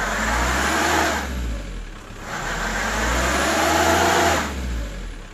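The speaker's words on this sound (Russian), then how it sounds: "Сразу же буксует, колесо проскальзывает," A car's wheel spins and slips on ice with no chains or studs, the engine revving loudly in repeated surges that rise and fall, with brief dips between the bursts.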